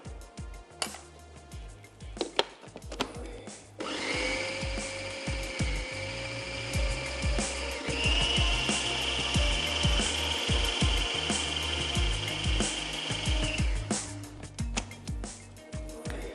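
An electric grinder grinds soaked masoor lentils for kababs, starting with a few scattered knocks before a steady high whirring motor drone takes over for about ten seconds and then stops.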